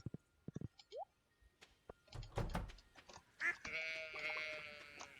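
Sheep bleating in the Stardew Valley farming game: a few short clicks and thumps, then a rising bleat, a cluster of knocks, and a longer wavering bleat near the end, fairly quiet and with no talk over it.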